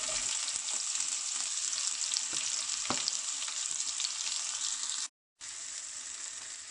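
Chopped onions sizzle and crackle steadily in a hot pan for a papaya stir fry, with a few soft stirring clinks and a brief cut to silence near the end.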